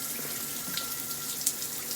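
Water runs from a Grohe SmartControl 360 Duo shower, a continuous even hiss of spray with a small splash near the end, no voices.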